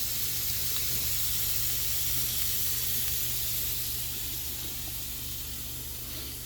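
Shrimp for street tacos spread in a single layer in a hot pan, sizzling with a loud, steady hiss that fades slightly toward the end, no voices over it.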